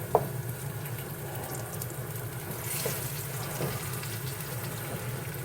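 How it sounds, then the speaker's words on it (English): Flour-dredged chicken thighs and drumsticks frying in a pan for arroz con pollo, a soft, even sizzle at moderate distance with a faint tap or clink near the start, no talking. "now we're gonna take them and fry them up in the pan"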